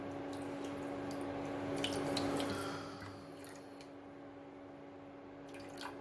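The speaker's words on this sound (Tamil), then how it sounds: "சர்க்கரை முங்குற அளவுக்கு மட்டும் நம்ம தண்ணி சேர்த்துக்கலாம்." Water trickles and pours into a pan of sugar to make syrup in a home kitchen. The pouring is soft and steady, with a few faint drips, and no voices are heard.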